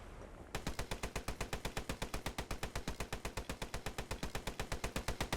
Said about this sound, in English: Is that a Vickers gun?